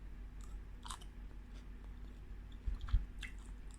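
Quiet, close chewing of thinly sliced mango with soft crunchy bites and moist squishing, a few distinct crunches near the end.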